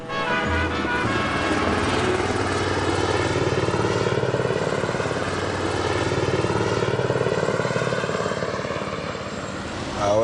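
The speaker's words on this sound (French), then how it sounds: "Ah ouais, l'hélicoptère là." A helicopter's loud, steady rotor thump and engine roar fill the clip, staying close and strong throughout.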